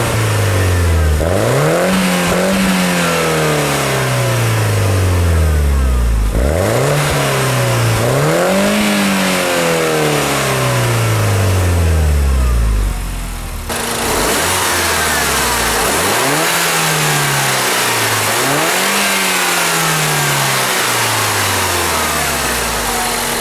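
A 2008 Mini Cooper S with its turbocharged 1.6 liter engine revs repeatedly, several rising and falling throttle blips from idle, loud and close with no voices.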